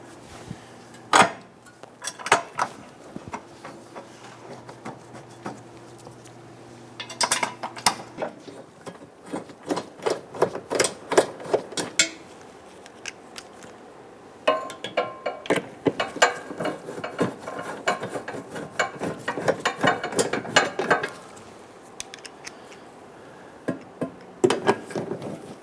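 A hand ratchet tightens the exhaust bolts on a catalytic converter of a 2011-2021 Jeep Grand Cherokee 3.6L V6, giving bursts of rapid, close clicking broken by short pauses and clanks, with no talk.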